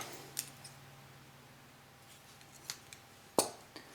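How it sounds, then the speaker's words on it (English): Scissors snip through crochet yarn at the end of a slipper row, giving a couple of faint clicks and then one sharper, louder snip near the end against a quiet room. "then I'll cut this yarn"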